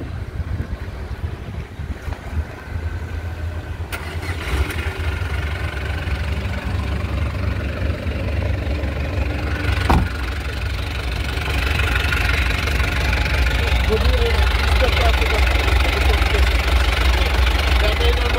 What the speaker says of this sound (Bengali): এই গাড়িটার ইঞ্জিন স্টার্ট করে দেখে যে ইঞ্জিনের সাউন্ডটা কেমন